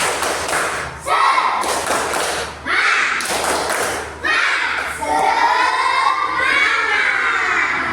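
A group of children do a rhythmic spirit clap in a classroom lesson, loud close bursts of clapping and shouting in short rounds, with a teacher's voice between them.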